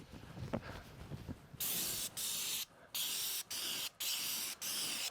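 A pressure sprayer running at about 800 PSI sprays stain onto a wooden fence in repeated hissing bursts, each lasting about half a second with short gaps between. The sprayer is loud and close, and no one speaks.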